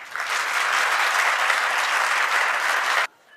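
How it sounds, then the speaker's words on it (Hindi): An audience at a Jain religious discourse breaks into loud, even clapping together, a thick continuous burst that stops abruptly after about three seconds, leaving quiet. "इस बात में अच्छी तालियां एक साथ बजाई जा सकती हैं"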